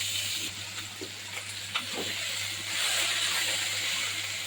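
Okra frying on a stove beside other cooking, a soft continuous sizzle and hiss with a few faint stirring taps, fairly quiet and set against a steady low kitchen hum.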